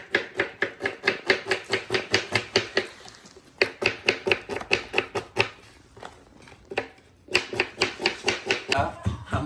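Chicken masala ingredients in a plastic bag being pounded on a hard surface, struck in quick, regular bursts of sharp, close thuds, with short pauses between runs of blows and a few faint voices in the background.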